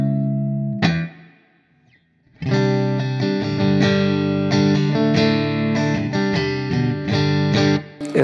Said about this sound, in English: that's how you tell a good spring reverb sound